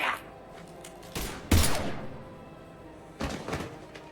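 Gunfire in the sci-fi video game Mass Effect, heavy thumping shots in a few separated bursts, loud and close with short ringing tails over a quiet low background.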